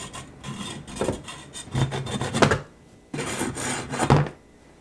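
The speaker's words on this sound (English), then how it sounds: "So what we're going to do is just cut off the ends. I use a hacksaw." Hacksaw cutting the ends off a turkey wing bone, a rasping back-and-forth in three bursts of strokes separated by brief pauses, close and fairly loud with no talking.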